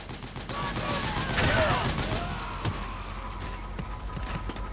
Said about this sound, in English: Use the machine gun.